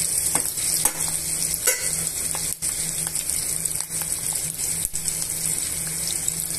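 Onion and green chilli pieces frying in oil for bagara rice, a bright, dense sizzle running steadily throughout with a few brief stirring clicks, close and loud, no voices.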